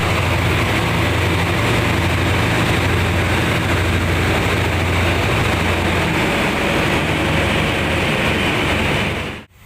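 A steady, loud rumble of a train engine idling at Bangkok station before departure, with low mechanical drone and broadband noise, continuous until it cuts off abruptly near the end.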